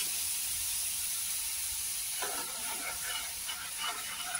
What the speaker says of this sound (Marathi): आता आपल्याला हळूहळू करून दूध टाकायचे, थोडं थोडं करून टाकायचे दूध।